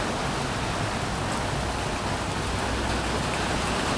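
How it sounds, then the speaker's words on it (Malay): Heavy tropical downpour pelting a roadside shop stop on the way to Genting, a loud, steady, hissing wash of rain on surfaces that fills the whole stretch without a break. "Okay guys, hujan lebat."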